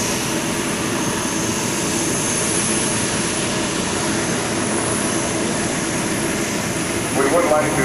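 Jet aircraft engine at the 2004 AirPower Over Hampton Roads air show, running as the airplane is taxied into position, a loud, steady, continuous roar throughout with a brief extra rattle near the end.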